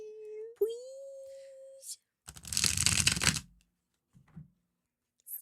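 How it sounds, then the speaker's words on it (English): Playing cards riffle-shuffled in one quick, crisp burst, close to the microphone, after a short hum and a click, with a brief rustle afterward. "Okay, I'm gonna do one more shuffle."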